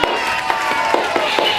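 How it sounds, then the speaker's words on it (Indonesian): Students in a microteaching classroom give a brief, sparse round of clapping for a classmate, with a handful of separate claps over a faint room hum. "tepuk tangan untuk Doni."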